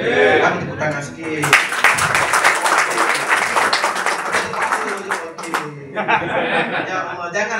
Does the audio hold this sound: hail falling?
no